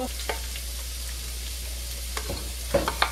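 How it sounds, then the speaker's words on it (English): Purple onions and green vegetables slide into a paella pan hot with coconut oil, giving a steady close sizzle with a few sharp clatters and scrapes near the end, no voices. "I'm going to slide over my purple onions first. All of these green vegetables."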